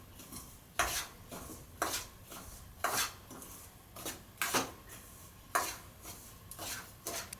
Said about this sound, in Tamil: நல்லா சிம்மிலே வச்சு கொஞ்சம் வறுத்துக்கோங்க ரவையை